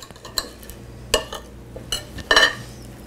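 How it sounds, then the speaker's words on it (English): A fork and knife scrape and clink against a plate while slicing a bacon, egg and cheese cup cooked on a Kamado Joe grill, a few sharp, separate metallic taps and scrapes close by with no voice. "we're gonna cut a piece off here and have a bite"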